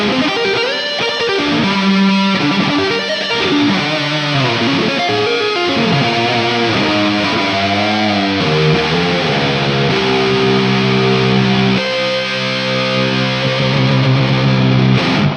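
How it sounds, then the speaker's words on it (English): Distorted electric guitar through a Mooer Prime P2 plays a melodic line with tape-delay echoing repeats and a bright, shimmering wash of shimmer reverb sustaining behind the notes. "We'll go with the tape delay. We're gonna drag that over. And then the reverb, we'll put in some shimmer reverb."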